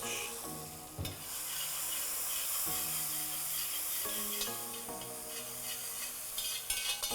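Fenugreek, cumin, ginger, garlic and green chili fry in a pan with a bright, steady sizzle, punctuated by clinks and scrapes of a spoon against the metal as the spices are stirred.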